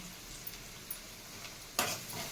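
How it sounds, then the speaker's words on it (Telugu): Curry leaves, chana dal, cumin and onions fry in hot oil as a faint, steady sizzle, with a few light stirring taps and one sharper scrape or clatter near the end. "ఇవి కొంచెం జాగ్రత్తగా వేగాలండి"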